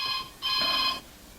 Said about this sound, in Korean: 그때 울리는 전화벨 소리